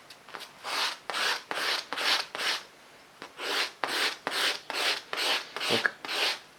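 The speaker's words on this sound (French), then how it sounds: "Donc je peux comme ça affûter, sans déformer mon outil." A leather-working tool, such as a punch, being sharpened on an abrasive, heard as about a dozen rhythmic, close rasping strokes with a short pause midway, no talking.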